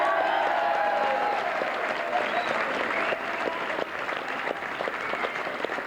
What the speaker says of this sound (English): that must be the biggest round of applause given to a Mayo man by the people of Galway ever